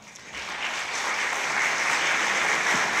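Applause rises from an audience at a youth achievers' gala in Mielec, a dense crowd of clapping hands that swells in the first second and then holds steady and full without voices on top.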